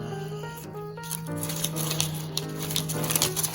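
A knife working through a Northern Pike fillet, producing quick, close tapping and scraping cuts in a loose rhythm, with light clicks over a steady background hum.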